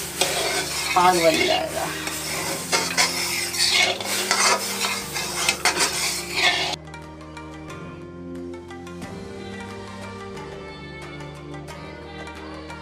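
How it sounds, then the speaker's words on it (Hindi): Khurchan, the residue left after making ghee from malai, is stirred in a pan with syrup for laddoo, giving a busy scraping and bubbling sizzle that cuts off abruptly into music, with a brief spoken line. "अब अपने को इसको हिलाते रहना है"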